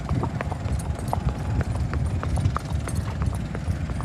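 Horse hooves clip-clop at a steady quick rhythm during a ride through a village in rainy weather, close and fairly loud, with a brief whinny-like sound and no talking.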